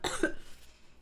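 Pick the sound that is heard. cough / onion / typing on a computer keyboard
cough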